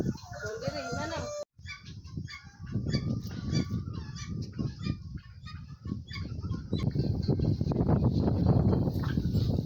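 Large farm chicken, roughly five kilos, heard with fowl calls and clucking mixed with nearby human voices and outdoor noise, a busy close sound that grows denser toward the end.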